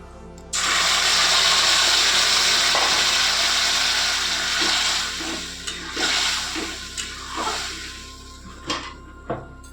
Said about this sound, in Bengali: এবার ওই তেলেই আমি ওই গ্রেভিটা দিয়ে দেবো